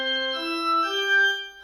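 Several MIDI organ notes sounded one after another in the ANSIWAVE music program, steady sustained tones stacking briefly and fading near the end, clear and alone with no talk.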